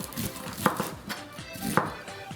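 A kitchen knife cuts down through produce with a rind on a cutting board, landing two firm, close chops about a second apart over a low background hum.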